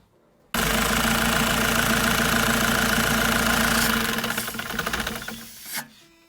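A Bogdan bus engine runs during a turbocharger replacement, a loud, steady close-up drone with knocking vibration that starts abruptly after half a second and fades unevenly near the end.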